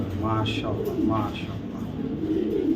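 Young Super Mili racing pigeons coo in low, repeated rolling calls close by, with a few brighter chirpy notes rising over a steady background murmur.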